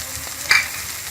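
Egg and potato curry with coriander and garam masala being stirred in a pot on the stove: a soft bubbling sizzle broken by one brief scrape of the spoon midway.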